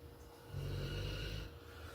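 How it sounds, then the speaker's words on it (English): A dog snores nearby in a quiet room, one drawn-out rumbling inhale swelling in the middle and fading, with a soft steady breathing drone around it and no talk. "Would you stop snoring, Samson?"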